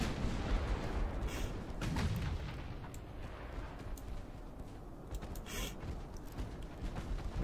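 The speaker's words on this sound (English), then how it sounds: "And those main battery shots have missed our armored cruiser" Battleship main battery guns firing in the Ultimate Admiral Dreadnoughts naval video game: heavy booming shots with deep rumbling blasts around two and five seconds over a constant roar of battle noise.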